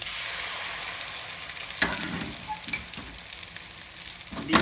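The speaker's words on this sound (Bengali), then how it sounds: "আবার অল্প একটু তেল দিব দিয়ে আবার এক চামচ পরিমাণ ডিম দিব" Beaten egg sizzles in a little oil in a pan, a soft continuous crackle with a few louder spitting bursts as it hits the hot surface and is moved around.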